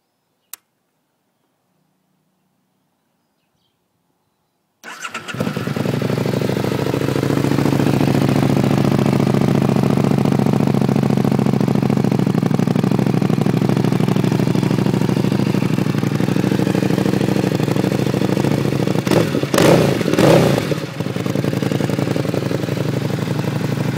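A 2008 Buell 1125R sport motorcycle with full fairings fires up after about five seconds of silence, then settles into a steady, loud, close idle that runs to the end with a slight flutter, and no voices.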